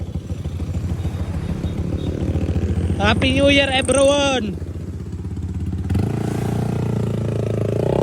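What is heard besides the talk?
Sniper 155 motorcycle engine with tuned NK ECU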